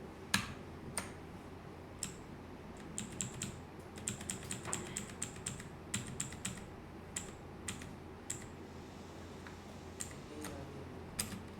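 Typing code on a computer keyboard, a steady run of crisp key clicks with irregular rhythm and occasional sharper strikes, close but fairly quiet over a low background hum.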